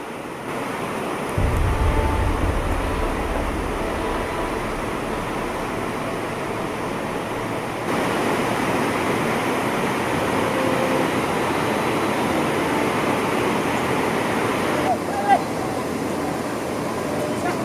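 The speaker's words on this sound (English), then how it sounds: "We dropped down to the river again, this time the Lukla," The Lukla river near Lukla, Nepal, flowing from Island Peak, rushes as a steady broadband roar close by and loud, with a low rumble early on and a shift in level partway through.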